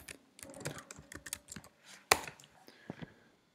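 Someone types a web address into a browser on a computer keyboard, producing quick irregular clicks with one sharper key strike near the middle, close and fairly quiet, with no talk.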